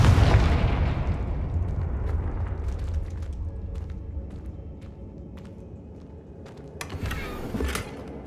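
A Confringo fire spell bursts with a loud, low explosive boom in Hogwarts Legacy, decaying into a long rumbling tail, followed by a second sharper blast near the end.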